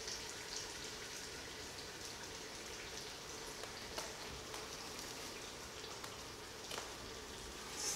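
Jollof rice sizzles steadily in a pot, a close, continuous crackling hiss with no pauses, while a few sharper pops and spits break through now and then.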